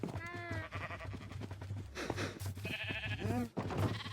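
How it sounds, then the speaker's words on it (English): Several sheep bleating in a video game, wavering calls overlapping in close succession over a low background hum, with no talking. "We'll breed the sheep."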